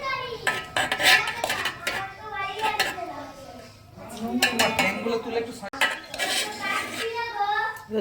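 Biryani being served from a pot onto plates, with repeated clinks and scrapes of a serving spoon on metal and dishes, while people, including children, talk throughout nearby.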